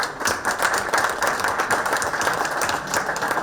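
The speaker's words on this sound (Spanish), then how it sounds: "así que un aplauso por favor" An audience at a cybersecurity panel claps steadily, a dense patter of many hands at moderate loudness with no talk over it.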